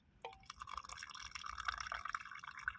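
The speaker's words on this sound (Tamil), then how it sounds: "இதில் ஊற்றுனா காப்பி ஆகிடும்னு சொல்கிறாங்க." Hot water poured into a coffee filter at home during a morning routine: a soft, faint trickle and drip of liquid running steadily for a few seconds, with no talking.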